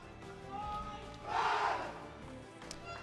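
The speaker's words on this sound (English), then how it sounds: "the German team that done their team cheer" The German team shouts a short group cheer on the field before their Nations Cup match against Singapore, one swelling burst of voices heard from a distance inside a large arena over a steady crowd murmur.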